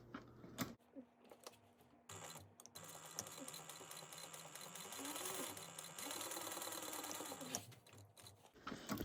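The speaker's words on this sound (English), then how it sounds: "we're going to sew that at a 3/8 inch seam allowance." Sewing machine stitching a 3/8 inch seam on a tote bag with a vinyl bottom, running in a steady, close whirring stretch broken by brief stops and clicks at the start and end, with no talk.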